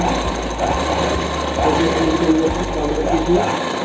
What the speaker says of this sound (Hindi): अब इसी सिलाई को डबल करनी है।